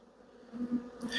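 Honey bees at an open hive give a brief, soft buzz from close range that swells slightly toward the end, quiet overall.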